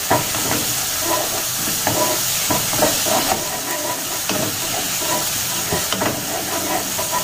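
Lemongrass, bay leaves, galangal and chili stir-fry in a hot pan, giving a steady, close sizzling hiss with scattered crackles and faint scraping from stirring throughout.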